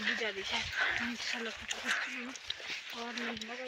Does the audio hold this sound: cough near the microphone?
no